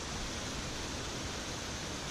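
Spring water flowing in Linville Gorge, a steady broadband rush with no pauses, close and constant for the whole stretch.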